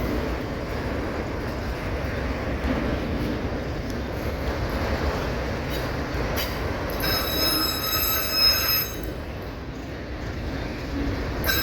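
A freight train hauling Southern Pacific auto rack cars rolls steadily past at close range, its wheels rumbling continuously on the rails, with high metallic squeals rising partway through.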